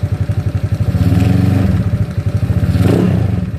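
A GY6 scooter engine idles and revs in loud, close, rhythmic pulses, the pitch rising and falling through two short revs with a little mechanical clatter.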